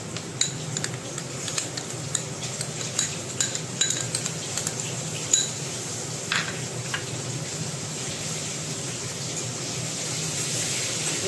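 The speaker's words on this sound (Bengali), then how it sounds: "আর পেঁয়াজ কুচি রসুন কাঁচা লঙ্কা সবগুলোকে নিয়ে মেখে নেব" Ginger-cumin-chili paste worked together with chopped onion, garlic and green chilies by hand, a busy close run of soft squelches and small clinks against a dish over a constant background hum.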